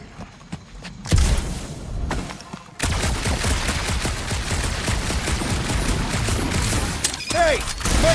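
Dense, sustained gunfire in the Marvel's Guardians of the Galaxy video game, with a rapid, crackling barrage after a few scattered shots, loud and continuous with a voice briefly heard near the end.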